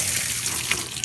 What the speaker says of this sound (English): Just come in here and water it real good.